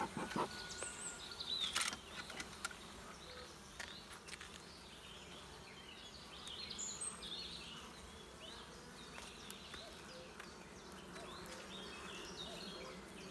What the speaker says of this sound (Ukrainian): бджоли вилазять є на цю дирочку